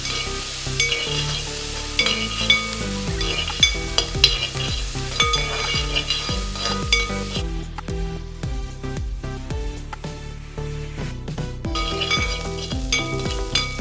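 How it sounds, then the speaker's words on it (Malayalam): Green chilies, curry leaves and dried red chilies sauté in hot oil in a pan, giving a steady sizzle broken by scraping stirs and metallic clinks of a spoon against the vessel, close and alone. "അല്പം വറ്റൽമുളക് കൂടി ചേർത്ത് നമുക്കിതൊന്ന് സോട്ട് ചെയ്യാം."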